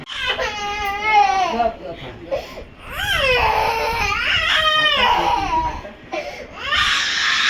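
Three-year-old toddler cries and wails loudly and continuously while being dressed in new clothes, sobbing in rising and falling bursts close by.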